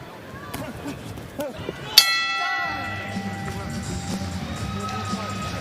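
A boxing ring bell clangs once to end a round in a professional heavyweight bout, its bright ringing tone decaying over a noisy arena crowd while a commentator talks.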